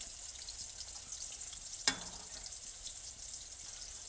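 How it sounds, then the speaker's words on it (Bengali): Fish frying in oil gives a steady, soft sizzle throughout, with one sharp click or pop near the middle and no talking. "মাছটা ভাজা হোক"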